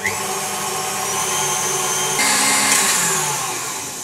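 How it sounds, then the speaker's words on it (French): An electric hand mixer whips egg whites with sugar for a lemon tart, a steady whirring motor drone held close for the full length, rising in pitch and intensity partway through as the beaters speed up. "on peut mettre le batteur en route"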